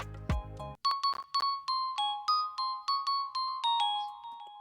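A bright bell-like synth tone from the Diggy Vibe 3 preset in FL Studio plays a short melody of clear, ringing notes, each decaying quickly, after a brief low chord at the start.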